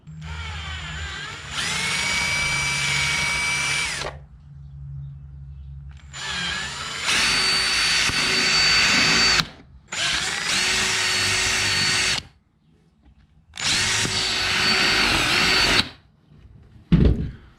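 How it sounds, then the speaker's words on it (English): A power drill fitted with a larger bit bores out holes during a street-legal dirt bike build, whining in several sustained bursts of a few seconds each, separated by brief silences, loud and close. "let's get a bigger drill bit on there and drill out the holes the rest of the way"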